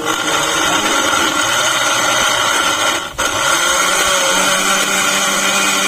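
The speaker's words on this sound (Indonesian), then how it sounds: "Kita tutup blendernya, kemudian kita nyalakan." A blender grinds diced wet porang tubers for glucomannan flour, a loud, steady mechanical whir that runs continuously except for one brief dip midway, with no speech.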